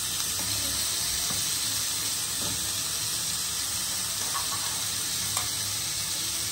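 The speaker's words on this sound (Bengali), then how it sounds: "মাখিয়ে নিয়ে এক একটা কাঠি কাবাব বসিয়ে দিলাম।" Chicken tikka kebab skewers sizzle steadily on an oiled grill pan, a continuous close hiss with faint clinks and no talking.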